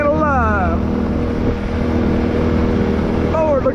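Steady engine drone of large motorboats on open water near Baytown, Texas, with wind rumble and a person talking briefly at the start and end.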